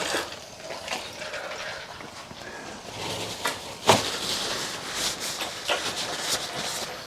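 Engine oil drains from a 2007 Hyundai Amica 1.1 petrol engine into a container, a steady close trickling and splashing with occasional clinks and knocks, no voices.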